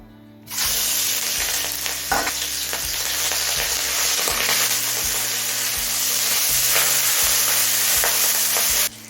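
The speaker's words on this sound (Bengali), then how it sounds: "এবার এই তেলে চিংড়িটা ভেজে নেব" Prawns frying in hot oil for a mixed chow mein dish, a loud steady sizzle that starts abruptly and holds for about eight seconds, with occasional stirring knocks and no talk.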